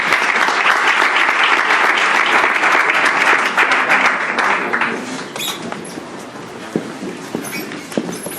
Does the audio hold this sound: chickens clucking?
no